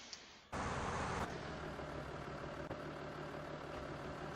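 A farm truck engine idles in Farming Simulator 17, a steady low rumble that kicks in abruptly after a quiet moment and then holds at an even, moderate level.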